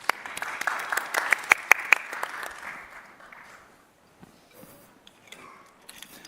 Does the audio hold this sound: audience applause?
yes